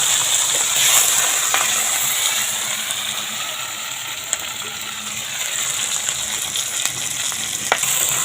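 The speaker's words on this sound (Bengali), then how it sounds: "এবার সর্ষের তেল দিলাম কড়াইতে" Fish sizzles and crackles in hot mustard oil in a wok over a wood-fired clay stove, a loud continuous fry with occasional pops, no talking.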